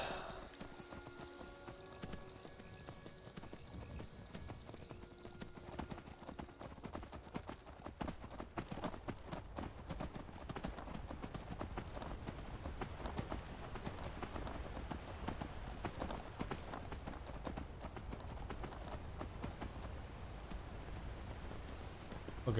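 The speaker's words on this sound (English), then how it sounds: "Just a 3:30 a.m. stroll on a horse." Horse hooves clip-clopping in the video game Skyrim Special Edition during a night ride along a road; a steady, continuous trot of evenly spaced hoof strikes at moderate volume, lasting throughout with no talk.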